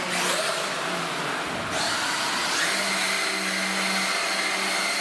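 A Traxxas UDR RC truck drifts on tarmac, a buzzing high-pitched motor whine with tire scrub that dips briefly then surges back, loud and close.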